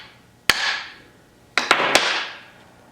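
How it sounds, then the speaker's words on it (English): A sledgehammer taps the top of a 4x4 front axle shaft held in a vise: one sharp metallic strike, then a pause, then three quick ringing blows, each leaving a short metallic decay. "use the sledge that we used before and give a couple taps on the top of the axle shaft"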